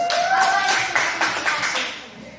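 A classroom of sixth-grade pupils claps together in a dense, sustained burst of applause lasting a couple of seconds, close and fairly loud, with faint voices mixed in.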